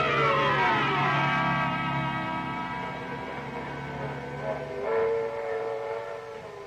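Train ride sound effect in an old-time radio detective drama: a loud steam-style train whistle with layered sustained tones opens and then fades, returns briefly near the end, and sits over a steady low rolling rumble with no talk.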